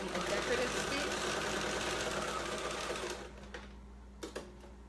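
Sewing machine running a straight stitch on a purse made from a T-shirt, a rapid mechanical whir that carries for about three seconds, then stops, leaving a quiet room with a couple of soft clicks.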